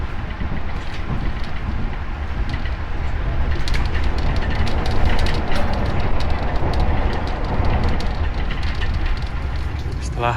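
KA Taksaka executive passenger train running on rails between Gambir and Jogja, heard from inside the carriage as a loud, continuous rumbling roar with rattling clatter, steady and unbroken throughout, with a voice speaking over it.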